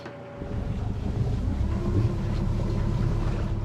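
Sailboat motoring under engine power at sea, a steady low droning rumble mixed with wind buffeting the microphone, rising after a quieter start and holding constant with no voices.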